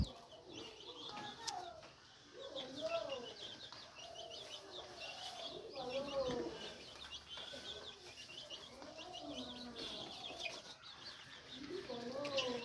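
Teddy high-flyer pigeons coo repeatedly in a loft, soft rolling calls rising and falling in overlapping bursts, with occasional wing flutters and faint background noise.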